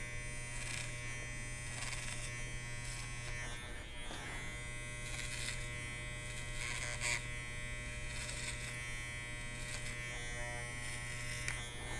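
An electric hair clipper cuts hair clipper over comb, a steady close buzzing hum that runs continuously with slight changes as it moves through the hair.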